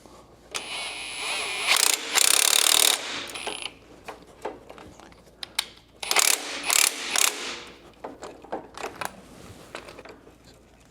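Socket ratchet tightening coil-over shock nuts, making close, loud clicking pawl bursts in several separate pulls with quieter handling noises and pauses between them.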